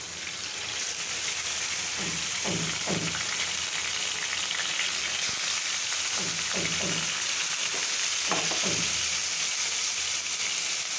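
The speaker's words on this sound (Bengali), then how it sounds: "এখন এই ভাজবো মাংসটা আমি অনেক টাইম রেস্টে রেখে দিয়েছিলাম এখনই দিয়ে দিলাম" Meat frying in a pan, a dense, steady sizzle throughout with a few brief bursts of scraping or stirring spaced apart.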